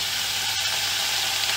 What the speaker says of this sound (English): As you can hear, the frying is starting.